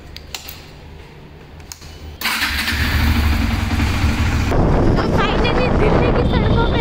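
A motorbike starts with a sudden loud roar and rides off on a night outing. The engine drone continues steadily under heavy wind rush at the microphone.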